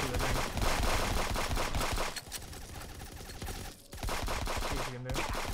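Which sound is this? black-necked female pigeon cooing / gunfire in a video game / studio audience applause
gunfire in a video game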